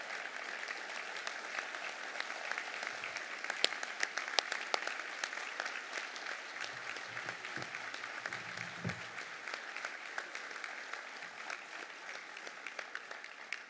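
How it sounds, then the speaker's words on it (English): A crowd at a rail partnership announcement in Rocky Mount, North Carolina, claps in sustained, fairly distant applause, an even crackle of many hands that holds steady for the whole stretch. "we need to give CSX a round of applause"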